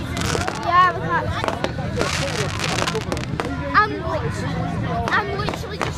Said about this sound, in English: I'm literally just recording fireworks.